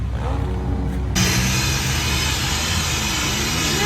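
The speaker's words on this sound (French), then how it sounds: "le souffleur pour refroidir la moto parce que là il fait extrêmement chaud" A Milwaukee blower cools a motocross motorcycle on a hot day at a sand track start: a loud, steady broadband rush of air kicks in about a second in and holds close and constant over a low background rumble.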